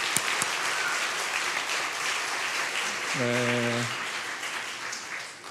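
Korean church congregation applauding in welcome for visitors from a Bloomington Korean church: soft, steady crowd clapping throughout, with a brief tonal sound partway through.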